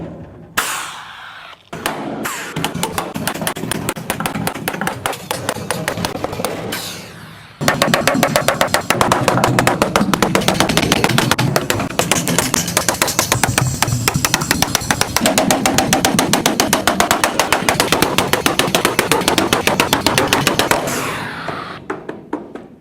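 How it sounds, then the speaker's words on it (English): Rapid, dense rattling bursts from an air riveter setting rivets on metal bus panels, loud and close, running in two long continuous stretches with a short pause between them and no talk. "And yes, I am using an air riveter now."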